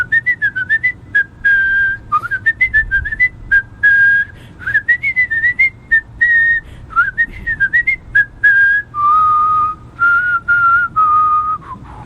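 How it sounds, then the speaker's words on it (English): A single person whistles a near-continuous melody, breathing in and out through the whistle so the tune barely pauses, with short gaps between phrases; close and loud, no talking. "you can actually almost whistle infinitely"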